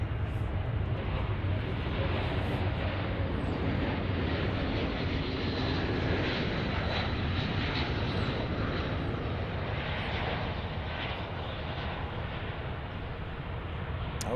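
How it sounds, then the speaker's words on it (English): A Boeing Dreamliner airliner departs from DFW airport, its jet engines giving off a loud, steady roar that holds through the whole stretch, with a voice talking faintly underneath. "that Dreamliner is actually going to Kauai"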